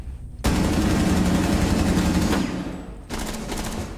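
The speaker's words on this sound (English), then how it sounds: "Since you got an LMG, you just want to keep shooting." Light machine gun firing in Rainbow Six Siege, one loud sustained automatic burst lasting a few seconds, then a short pause and a second burst starting, close and dominant.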